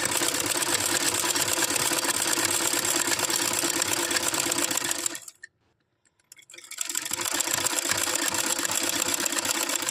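A sewing machine stitches piping onto handmade slippers, heard as a steady close mechanical whir with rapid ticking that stops for about a second before running again.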